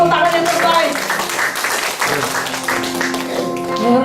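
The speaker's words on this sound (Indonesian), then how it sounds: "Boleh kita sekali lagi beri tepuk tangan yang terbaik" Church congregation clapping under a loud voice, the applause a steady broadband wash beneath continuous speaking.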